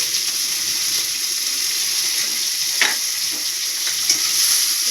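Shrimp fry in a hot pan with a steady, loud, close sizzle that continues without a break, with no voices.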